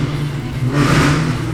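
A drag car revs on a dyno at a dragway, a loud, steady engine drone that surges briefly partway through, heard nearby.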